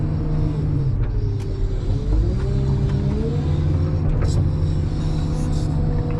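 A loaded manure truck pulls away with a steady low engine rumble and a brief rise in revs, holding fairly loud throughout with the heavy drone continuous.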